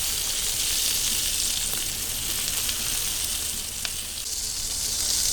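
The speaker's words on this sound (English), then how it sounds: "So we just want to roll those around" Burgers and sausages sizzle steadily on a hot Blackstone griddle, a dense continuous crackle with a few sharper pops, close and loud with no talking.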